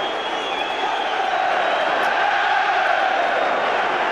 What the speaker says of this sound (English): Every pass being applauded by the huge army of Celtic fans